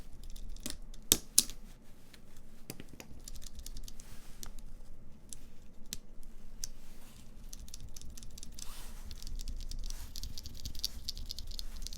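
Fingers type steadily on a mechanical keyboard fitted with Cream linear switches, producing a dense, close patter of clicky keystrokes with a few sharper louder presses near the start.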